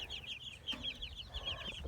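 Young laying hens cluck in a brooder, a quick run of soft, repeated clucks and chirps, fairly close and quiet, with no talking.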